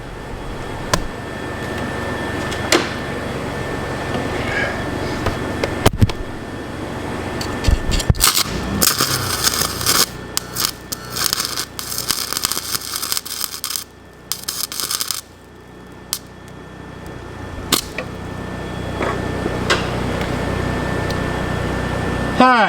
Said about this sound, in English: I think I'm going to tack weld that there too.